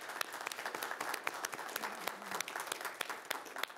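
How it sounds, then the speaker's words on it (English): An audience at a city council meeting in Kenner gives a round of applause, a steady patter of many hands clapping at moderate volume with a faint murmur underneath. "give them a round of applause"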